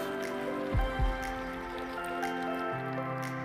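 Water from cooked pasta pours and splashes briefly near the start as it is drained, followed by quiet trickling and dripping over a low steady hum.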